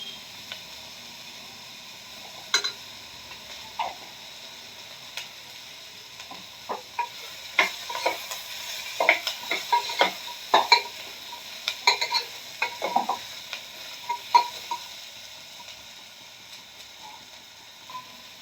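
Potatoes fried in a pan with a little turmeric, a soft sizzle under repeated irregular scrapes and clacks of a spatula stirring, close up with no voices.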